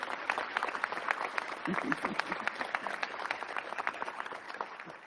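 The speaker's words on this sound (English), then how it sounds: "we need to give them a round of applause again" An audience at a transit agency's State of the Agency address gives a steady round of applause, many hands clapping densely and evenly with a brief murmur of voices partway through.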